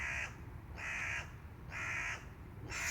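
A bird, likely a crow, squawks four times in steady succession: harsh, raspy calls about half a second apart, fairly close and clear over a low background hum, with no one speaking.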